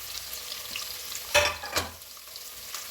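Carrots, beans and potato frying in an oiled pan, a soft continuous sizzle close by with two quick scraping stirs near the middle.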